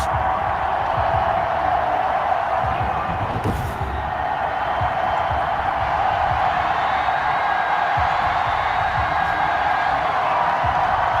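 A large stadium crowd in Baltimore roars steadily as the Ravens and Browns emerge for a Madden 21 football game, a continuous dense wash of cheering with a faint announcer voice blended in.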